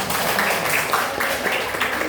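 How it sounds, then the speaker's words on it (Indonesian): A classroom of students gives a dense, continuous round of applause, loud and close, with a steady wash of clapping and some voices mixed in. "Giliran tepuk tangan."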